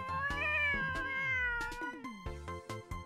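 An animated cat in the visual novel game Cafe Stella, set in a cat cafe, lets out several drawn-out, wavering meows and a sharp hiss, close and clear, with no talking.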